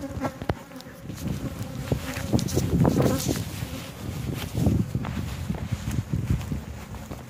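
Honey bees at a backyard hive drone in a dense, close buzz that rises and falls, with occasional handling knocks and shuffling footsteps mixed in and no clear speech.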